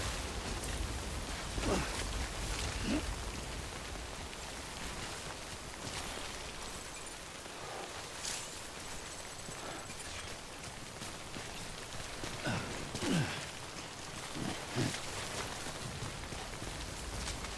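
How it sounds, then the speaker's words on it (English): Steady rain in the video game Death Stranding patters across a surface with a constant hiss, punctuated by a few louder drips and splashes, moderately quiet and continuous. "We wait out the rain over there."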